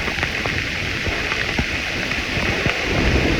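Heavy rain pours in a dense, steady hiss in a forest, with scattered louder drops and splashes close by.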